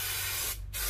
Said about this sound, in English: because you can just spray some more on